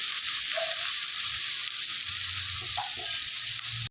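Vegetables for veg manchurian fry lightly in a pan, a steady close sizzle with a few scraping stirs of a spoon against the metal scattered through it.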